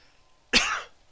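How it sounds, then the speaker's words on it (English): A single sharp cough from a man voicing a prison-building game session, sudden and close, lasting about half a second between quiet moments. "Pardon the cough."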